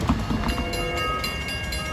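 A train rumbles and clatters steadily across the New Hyde Park Road grade crossing during evening rush hour, loud and close, with continuous wheel noise and a faint high tone.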